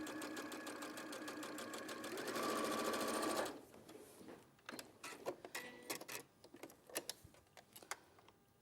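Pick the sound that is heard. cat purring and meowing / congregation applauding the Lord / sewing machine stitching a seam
sewing machine stitching a seam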